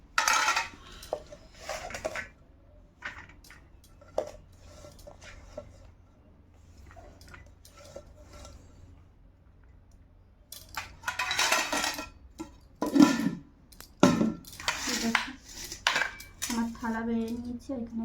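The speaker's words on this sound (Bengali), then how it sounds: "চলো আমার থালাটাও বেড়ে নিই" Food is served onto a plate with repeated clinks and scrapes of a spoon against dishes, sparse at first and then busier and louder in clustered bursts, close by and with no talking.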